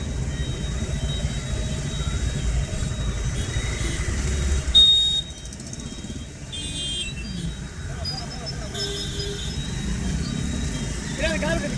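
Heavy weekend city road traffic in Coimbatore rumbles steadily throughout, a dense low engine roar with occasional beeps and horn-like tones, briefly rising near the middle before settling back to a constant drone.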